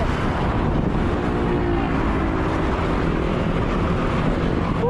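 Strong wind roars steadily into the microphone during an early-morning motorcycle ride on the Tagaytay–Talisay road in the Philippines, a dense unbroken rush with low buffeting throughout.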